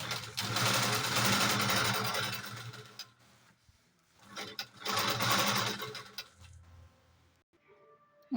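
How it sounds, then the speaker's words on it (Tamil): Sewing machine stitching a top seam on a blouse, whirring loudly in two long runs with a quiet pause between them, then falling silent. "மேலே ஒரு தையல் அடிக்கிறோம்"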